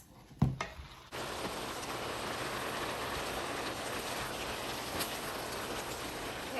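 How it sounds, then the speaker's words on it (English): Vegetables sauté in a pan for a chicken dinner recipe, giving a steady, even sizzle like light rain that starts after a couple of soft knocks and continues uninterrupted, moderately close and alone. "So this is gonna saute for 5 minutes."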